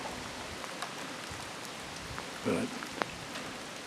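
Spring rain falls steadily on surfaces outdoors in Manitoba during a bear hunt, a constant soft hiss with scattered drops, and a voice briefly speaks over it.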